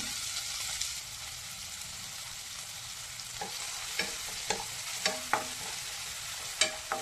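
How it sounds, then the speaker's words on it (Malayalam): Tomato and finely chopped green chilli frying in a pan for egg bhurji, with a steady soft sizzle under scattered scraping clicks of a spoon stirring, close by and with no talking. "ഒരു തക്കാളിയാണ് ഞാൻ തക്കാളി കൂടി ഇട്ട് കൊടുക്കുക നന്നായി ഇളക്കി കൊടുക്കുക"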